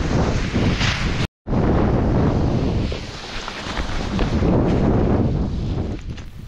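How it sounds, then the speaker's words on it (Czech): Strong wind gusting across a paragliding launch site at Řevničov, roaring and buffeting loudly against the microphone, broken by a brief dropout and then swelling again in long, rough surges. "Vítr v souladu s předpovědí zesílil"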